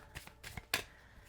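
Tarot cards shuffled by hand up close: a quick series of soft riffling flicks and one sharper slap of cards, brief and without any talking.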